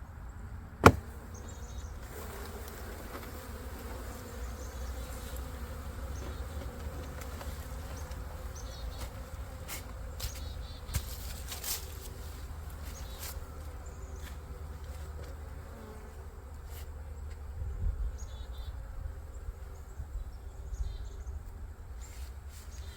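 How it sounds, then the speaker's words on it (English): Honey bees hum continuously around an apiary hive in the open, a low, steady drone with a few faint clicks and knocks mixed in. "I got a cluster of bees on the grass"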